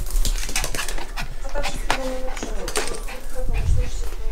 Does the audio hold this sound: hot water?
no